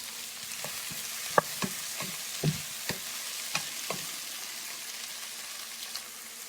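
Garlic, onion and tomato sautéing in a pan, a soft sizzle broken by sharp scrapes and clinks of stirring at irregular intervals, fairly quiet and close, with no voices.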